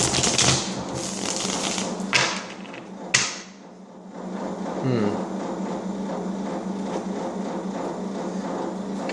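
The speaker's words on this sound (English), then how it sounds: "I'm gonna go ahead and shuffle and see" Tarot cards being shuffled during a reading, giving a dense, continuous riffling clatter with a few sharper snaps early on, close and fairly loud, with no talking over it.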